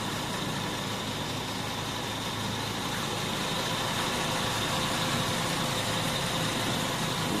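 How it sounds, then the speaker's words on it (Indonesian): A 1995 Toyota Kijang Grand Extra Short idles with its hood open, giving a steady, even engine drone and mechanical hum heard close by, unchanging and without any speech. "ini mesinnya teman-teman"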